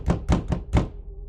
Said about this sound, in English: It usually starts with a knock.